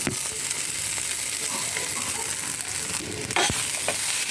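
Crumbled leftover Kerala puttu, mixed with sambar, sizzles loudly in a hot pan while being stirred, a steady close frying hiss with occasional scraping clicks of the spoon.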